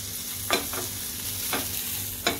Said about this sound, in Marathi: गोल्डन ब्राऊन होतोपर्यंत कांदा आपल्याला परतून घ्यायचा आहे वाटण्यासाठी.